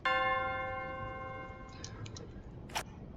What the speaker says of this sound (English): So we rang the bell.